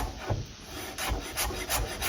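Knife finely chopping food on a cutting board, a close series of quick, irregular chops with soft scraping between cuts.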